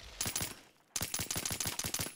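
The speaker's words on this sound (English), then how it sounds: "Oh, I hear gunfire." Automatic gunfire in Call of Duty Warzone, two quick bursts and then a longer rapid rattle of shots after a brief gap, loud and close.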